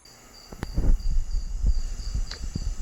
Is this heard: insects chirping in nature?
yes